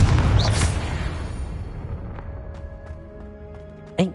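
A single Confringo fire-spell explosion in Hogwarts Legacy, a loud booming burst at the start that rumbles and decays over a few seconds, followed by faint ringing tones and a sharp small pop near the end.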